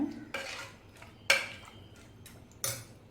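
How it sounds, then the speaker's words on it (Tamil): A spoon scrapes and clinks faintly against a metal pot while mango, onion and tomato are stirred for Andhra-style mango dal, with a few separate strokes in a quiet kitchen. "மாங்காய் வெங்காயம் அந்த தக்காளி எல்லாத்தையும் நல்லா மிக்ஸ் பண்ணி விட்டுக்கோங்க"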